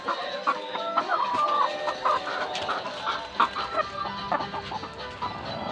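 Backyard free-range hens cluck repeatedly at close range, a busy overlapping chorus of short calls against soft farmyard background noise.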